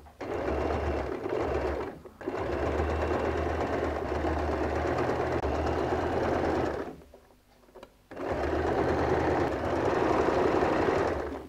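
A sewing machine stitches the gusset of a recycled jeans bag in long, steady humming runs with a low motor drone, broken by a brief stop near two seconds and a longer quiet pause before resuming.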